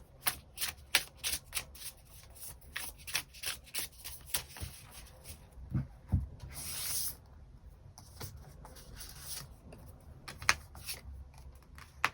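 Tarot cards are shuffled in a quiet room, giving a long run of quick, crisp riffling bursts and soft slides in an uneven rhythm, close and fairly soft, with no talking.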